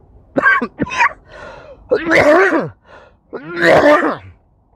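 A person coughs several times up close, two short hacks followed by two longer, harsh throaty coughing bursts.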